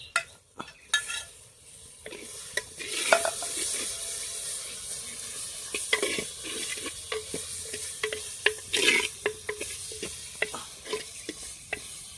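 Mutton is added to a masala and frying in oil, a close crackling sizzle with frequent sharp scrapes and clacks of stirring against the pot, bursts louder at the start.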